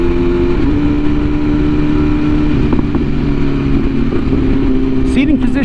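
A custom 2022 BMW S1000RR sport bike engine drones loud and close with the throttle open, its pitch shifting briefly as it downshifts, then settling into a steady roar.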